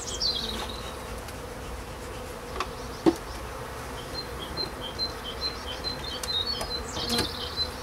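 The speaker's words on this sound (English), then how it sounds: "There's a few bees there," Honey bees buzz softly around an open hive during an early-spring inspection, a low continuous drone with occasional brief louder passes close by, and a few faint bird chirps in the background.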